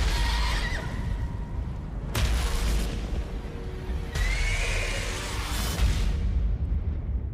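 A horse whinnies in the Ghost of Tsushima video game, a couple of high cries rising over a loud, steady game soundscape of deep rumbling and booming, with no talking.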